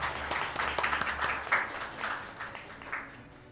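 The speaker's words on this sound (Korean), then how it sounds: "우리 다 같이 뜨거운 박수로 그 문을 열겠습니다." Warm applause from parents opening the first Goyang parents' education policy forum, a moderately faint, steady wash of clapping hands that thins toward the end.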